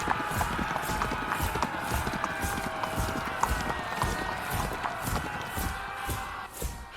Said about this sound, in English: A loud ruckus, hoofbeats and men shouting could be heard elsewhere in this cavern.